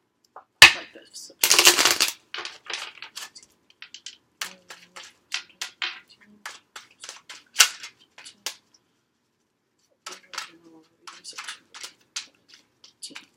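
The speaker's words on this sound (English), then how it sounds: "One more shuffle, like this." Tarot cards are shuffled and handled up close in quiet surroundings, with one longer riffling burst followed by scattered sharp taps and flicks of cards being cut and squared, and no voice over them.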